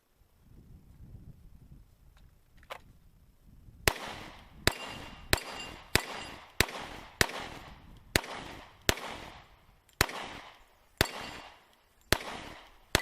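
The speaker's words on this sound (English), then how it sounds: "So we're going to test fire all those rounds and magazines and see what, if any, malfunctions we get." Pistol shots at an outdoor range while test firing Glock and LC9 magazines, about a dozen sharp reports in a steady rhythm of roughly one every half second to second, each with a ringing decay, after a few quiet seconds.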